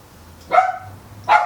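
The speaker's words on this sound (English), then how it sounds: "let me quiet my dog" Two sharp barks from a dog indoors ring out loud and close, about a second apart, with quiet in between and no talk.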